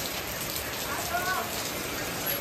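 Heavy rain pours down in a steady, dense hiss that fills the background outdoors, constant and unbroken throughout.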